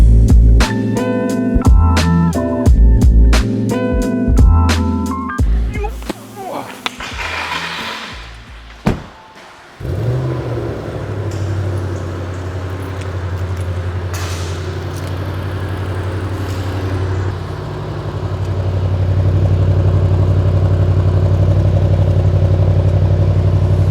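A car engine cranks and catches, then settles into a steady, loud idle that rises slightly later on, with clattering mechanical noise near the start.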